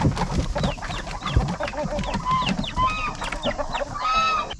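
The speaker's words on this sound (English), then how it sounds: "we'll let the chickens out" Several chickens cluck and chatter continuously nearby, overlapping calls with a few drawn-out squawks toward the end.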